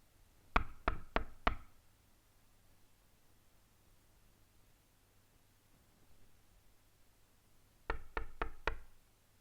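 Knuckles rapping on a door: a quick run of four sharp knocks, a long quiet pause with faint background hiss, then another set of four crisp knocks, close and clear with no talking.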